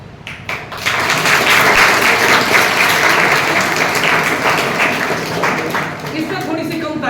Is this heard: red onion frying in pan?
no